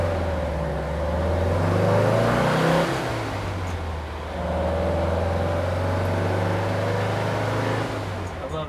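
Porsche 911 engine note piped into the cabin, a low droning rev that rises, eases off, then swells again, steady and fairly loud inside the car while driving.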